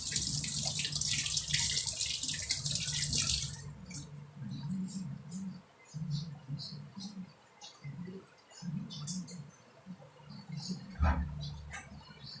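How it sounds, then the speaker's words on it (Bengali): Hands are washed under a running kitchen tap, a loud rush of water at first, then intermittent splashing and dripping as the hands move in and out of the stream, with rustles and faint sounds nearby. "হাতটা ভালো করে ধুয়ে নিই"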